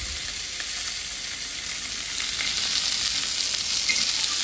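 Rui fish fries in a pan with an even, continuous hiss of hot oil, close and fairly loud, growing slightly busier toward the end, with no talking.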